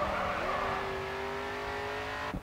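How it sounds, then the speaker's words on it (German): Race car engine at full throttle in the video game GRID 2, a loud sustained high-pitched whine holding steady down the straight before cutting off abruptly at the end. "jetzt mit Vollgas auf die Zielgerade"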